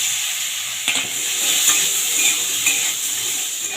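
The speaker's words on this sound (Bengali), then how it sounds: "আলুটাকে বেশ কিছুক্ষণ সময় ধরে আমি ভেজে নিলাম, 5-6 মিনিট ধরে" Potato pieces fry in a pan with tempered whole spices, a continuous close sizzle broken by a few soft scraping stirs of a utensil against the pan.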